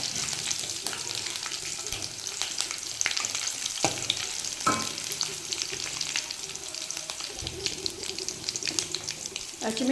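Green chillies and curry leaves fry in oil in a pan for a dosa potato palya, a steady close hiss of sizzling broken by a few clinks and scrapes of stirring.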